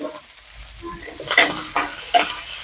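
Curry leaves and chopped onion hit hot oil with sharp sizzling bursts, three crackling surges after a quiet start, close and moderate in level.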